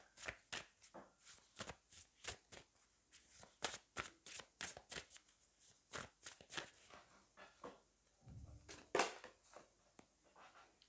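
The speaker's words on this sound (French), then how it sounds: "Je vais prendre une carte de l'Opoutkine Oracle" Oracle cards riffled and shuffled by hand, a steady run of crisp, close flicking bursts repeating for several seconds with brief pauses between handfuls, plus a soft dull thump near the end.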